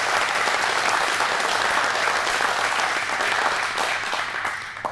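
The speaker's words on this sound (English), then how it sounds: "May I please have another round of applause for our performers?" An audience at an AANHPI Heritage Month celebration applauds the performers in a loud, dense, steady round of clapping that carries on for several seconds and only begins to thin slightly toward the end.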